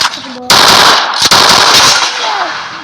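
Video game shooter gunfire: loud, close automatic bursts that fill the clip, with a short break just after the first second before the firing resumes.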